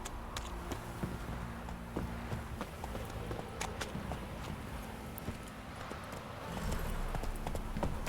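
A horse's hooves clip-clop steadily in The Witcher 3, a rapid run of faint, evenly spaced hoofbeats over a low ambient game rumble.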